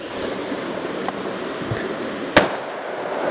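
A single sharp pop cracks out as an MT-130 airsoft grenade fuse goes off over a rushing, noisy background, with a couple of fainter ticks before it.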